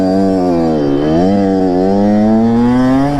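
Kawasaki KX112 dirt bike engine revving loud and close, a steady buzzing two-stroke drone that dips slightly then climbs in pitch, with no voices over it.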